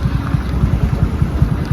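Heavy rain falling on a road in Rajasthan, a steady broadband hiss with rhythmic low thumps running through it, loud and close throughout.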